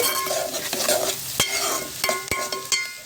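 Finely chopped tomato cooking in a pan for a village-style egg and dried fish curry sizzles steadily up close, broken by several sharp scraping and tapping stirs of a spatula.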